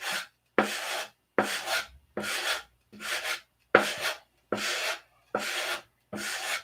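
An aircraft propeller spinner is hand-sanded with 80 grit, a loud, near rasping stroke repeated about nine times in an even rhythm, each separated by a short silence.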